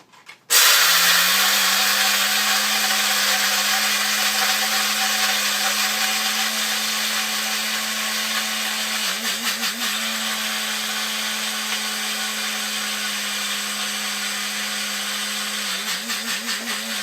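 An electric grinder runs continuously, grinding coffee beans fine for a drip coffee machine, a loud steady whirring buzz that starts abruptly and holds for the whole stretch with slight wobbles near the end.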